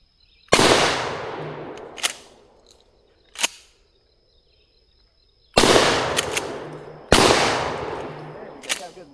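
A Mossberg 590 Shockwave shotgun fires four loud, close, sharp blasts outdoors, spaced several seconds apart. Each shot has a long decaying echo, and smaller clacks of the pump action fall between shots.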